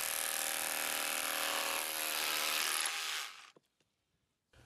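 A Makita BHR243 cordless rotary hammer running in chisel mode, a steady loud mechanical rattling hammer for about three seconds, then cutting off into near silence with a couple of faint clicks.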